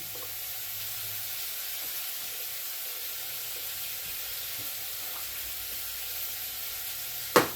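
Whole peeled garlic cloves sizzle steadily in hot oil, a close, even crackling hiss that runs throughout, with one brief sharp clatter near the end.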